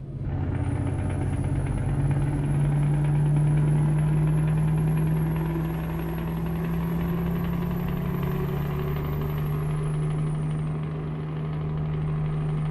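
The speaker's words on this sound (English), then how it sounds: "That engine does sound nice though." A truck engine idles steadily in Euro Truck Simulator 2 with a deep, throbbing low hum and a faint high whine, running continuously without talk.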